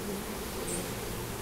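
A honeybee (Apis) buzzes steadily and close, a continuous droning hum with no other sounds.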